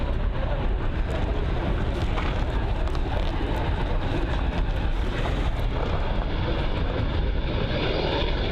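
A Dassault Falcon 900 business jet at London Luton airport gives a continuous, broad roar of jet engine noise with some wind rumble. It stays loud and steady throughout, with no voices.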